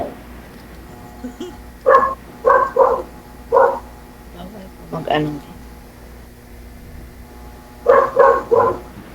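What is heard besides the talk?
dog barking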